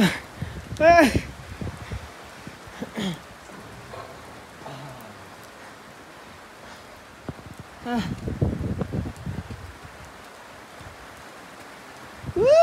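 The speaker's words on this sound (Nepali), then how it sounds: "पानी पर्यो" Continuous rain patters down in a steady hiss at Laligurans Park, with voices speaking in short bursts over it.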